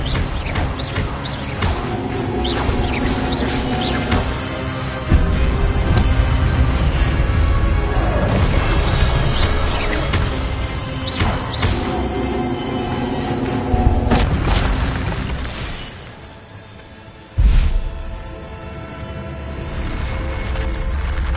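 Spells cast in the Hogwarts Legacy video game: a dense stream of booming magical blasts and crashes over a loud, steady game soundscape, with a sharp burst near the end after a brief dip.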